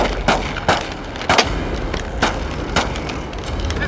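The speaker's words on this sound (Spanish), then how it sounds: "¡Disparos! ¡Disparos!" Five sharp, loud bangs spaced irregularly over a few seconds, ringing out close by against a steady background noise.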